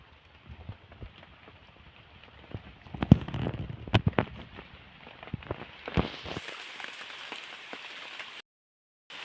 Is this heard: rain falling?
yes